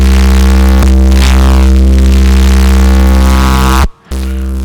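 Synth sound with several distortion effects stacked and heavy compression, a loud sustained buzzing drone with dense harmonics that drops out briefly near the end before resuming.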